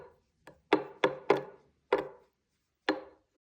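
A spoon knocks against a bowl while tahini, paprika powder and salt are stirred together: six or seven crisp, separate taps at an uneven pace, close and clear, with no talk.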